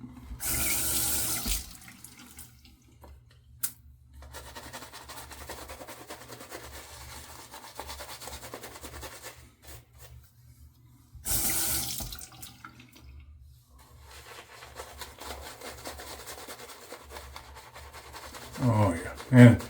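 Water runs from a tap at a sink during a wet shave, in two broadband bursts of gushing flow, one at the start and one midway, with quieter handling sounds between.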